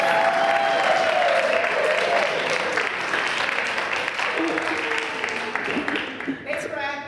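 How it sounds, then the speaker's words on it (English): Audience clapping steadily throughout a gathering, a dense even patter of many hands that thins slightly toward the end. "Can we give them some applause?"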